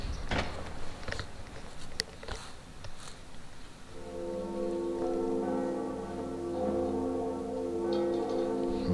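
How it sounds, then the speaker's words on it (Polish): A large bell tolls in Dark Souls Remastered, a few sharp strikes giving way to a long, loud, sustained ringing drone that hangs on for several seconds with no talk over it. "Ale jest i drugi dzwon."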